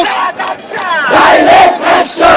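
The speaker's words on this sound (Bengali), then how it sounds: "পুরো শহীদ মিনার এলাকা কিন্তু কাঁপছে তাদের মুখের স্লোগানে" Large crowd of protesters chanting slogans in unison at Shaheed Minar during a student movement rally, loud and close, rhythmic shouted phrases rising in bursts over constant crowd noise.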